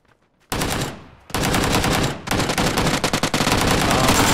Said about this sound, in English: Who else is shooting at me, boy?